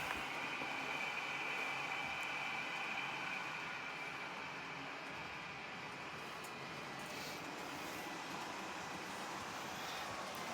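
A steady, continuous rumble and hiss of a small diesel model train running along its track on an automated Filisur RhB DCC layout, unbroken and fairly even throughout.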